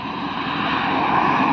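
Engine of a four-wheel ATV quad bike on a beach ride at Dhanushkodi, a steady, loud, close droning roar that holds evenly throughout with no talk over it.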